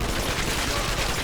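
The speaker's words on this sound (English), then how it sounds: "Oh yeah, we got ricochet bullets now." Dense, continuous burst of rapid gunfire with ricochet bullets in the BioShock video game, loud and unbroken for a second or so with no gaps between shots.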